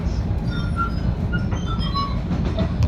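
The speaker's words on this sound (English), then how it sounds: "This is the train to North White Plains" Commuter train running toward North White Plains, a steady loud rumble of wheels on rails with faint high metallic squeals and clinks throughout, heard from inside the car.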